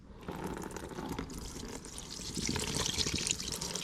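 Old varnish-like fluid from an abandoned dozer pours into a bucket as a continuous splashing trickle, quiet and close, growing slightly fuller toward the end.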